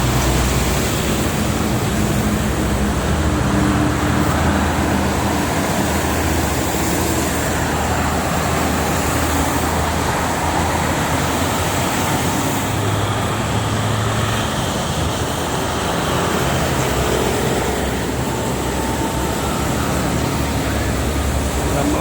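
Traffic on the Jakarta-Cikampek toll road in the rainy season makes a loud, steady roar of tyres and engines, with a broadband wash that never lets up and faint talk underneath.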